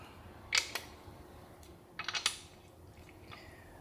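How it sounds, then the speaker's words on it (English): A small ratchet clicks in short, quick bursts while snugging bolts on a small block Chevrolet engine, close and crisp with quiet pauses between the two runs. "I'm literally just wrist tight with this itty bitty ratchet."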